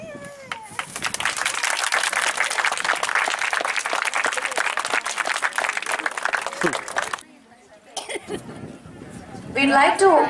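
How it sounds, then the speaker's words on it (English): Audience at a school sports day claps hands to light the torch, a long dense burst of applause from a crowd, then a short lull and a voice speaking briefly before renewed noise. "Will you please clap your hands to light the torch?"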